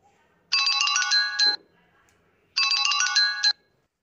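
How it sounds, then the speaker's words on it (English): A wooden stick gently strikes metal glasses, giving two bright, ringing metallic tones about two seconds apart, each sustaining for roughly a second before stopping, close and clear with no talk. "each of the glasses will have a different tone when we strike them with the wooden stick"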